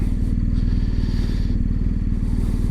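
A motorcycle engine thrums steadily while riding, close and loud with an even, rapid pulsing rumble and light clatter, no voices.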